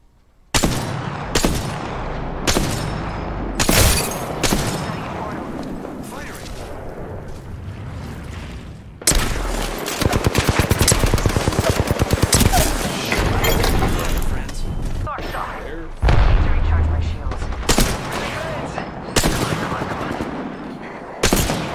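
Rapid bursts of gunfire in a battle royale video game, loud and dense, with sharp repeated shots and volleys clustered through the scene while players talk over the action.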